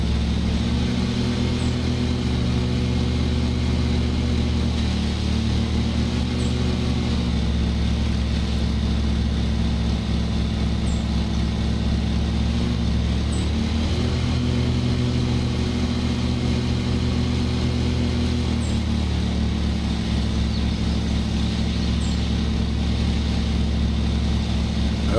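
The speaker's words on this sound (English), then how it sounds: "Okay, start the engine." A lawn mower engine runs in Lawn Mowing Simulator, a steady loud droning hum held for the whole stretch with slight shifts in pitch, with no talk over it.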